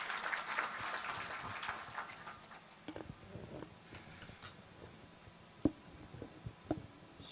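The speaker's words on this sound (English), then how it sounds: "I request for a huge round of applause for the Minister" An audience applauds a government minister at an urban conclave breakout session. The clapping is moderately loud at first, then thins into scattered, distant claps and a few isolated sharp claps as it dies away.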